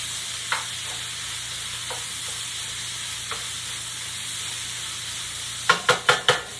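Food fries in a pan while it is stirred: a low, constant sizzle with a few light taps, then a quick run of four sharp spoon knocks against the pan at the close.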